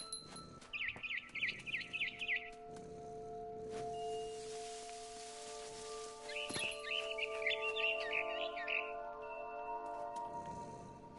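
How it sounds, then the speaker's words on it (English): Barn swallow chirping outside a window in the game What Remains of Edith Finch, two bright rapid twittering bursts separated by a pause, over faint ambient tones and rustling. "Then I heard chirping outside my window. It was a barn swallow going back to her nest."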